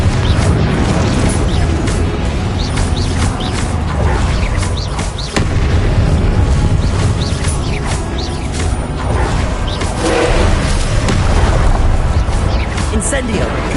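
Confringo blasting spells going off in the Hogwarts Legacy game, a dense run of loud, close booms and crackling bursts one after another over a constant roar of combat, with voices talking throughout.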